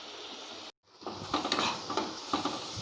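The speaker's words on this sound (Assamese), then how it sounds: "ইয়াত সম্পূৰ্ণৰূপে পিঁয়াজখিনি আৰু মছলাখিনি একেলগে ভাজ খাই গৈছে।" Onions and spices fry together in a pan with a soft sizzle and scattered stirring scrapes, fairly quiet and close, after a brief dropout near the start.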